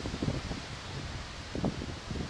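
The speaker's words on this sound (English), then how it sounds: "Very windy day today." Strong, gusty wind of about 25 to 30 mph, gusting from all directions, buffets the microphone outdoors beside a wind turbine, a steady dull roar with rustling surges rising and falling, no voices.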